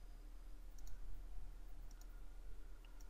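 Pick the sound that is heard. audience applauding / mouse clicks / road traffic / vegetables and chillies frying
mouse clicks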